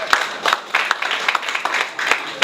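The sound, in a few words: audience round of applause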